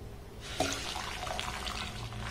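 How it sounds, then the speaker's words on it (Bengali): Melted jaggery syrup for a raw mango pickle poured through a strainer into a bowl, a steady close liquid pouring and trickling that runs the whole time, alone without talk. "এবার গুড়টাকে একটু ভালোভাবে ছেঁকে নেব।"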